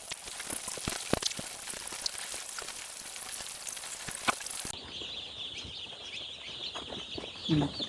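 Young chicks being put into a cage give rustling clatter and scattered taps, then a run of high, steady peeping calls, fairly close and moderately loud.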